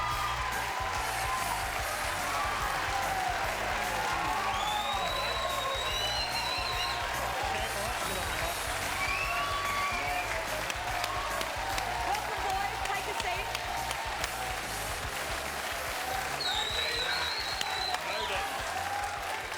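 Studio audience at a football talk show applauds while the Melbourne cheer squad cheers and whoops, a continuous loud roar of clapping and shouts under which a host briefly welcomes the guests.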